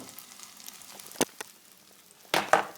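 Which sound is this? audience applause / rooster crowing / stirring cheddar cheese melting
stirring cheddar cheese melting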